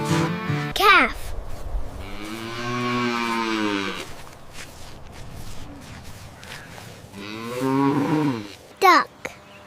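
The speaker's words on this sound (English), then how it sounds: "Calf." A calf moos twice, long drawn-out bellowing calls separated by a quiet pause, close and loud, with brief voice-like sounds at the start and end.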